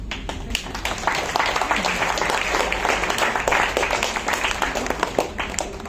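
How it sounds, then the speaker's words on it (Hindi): A hall audience at a children's comic poetry gathering during a Hindi fortnight event in 2023 claps loudly for the student poets, a dense, sustained burst of applause with a little crowd noise mixed in. "इनकी तालियों की खुराक देते रहना"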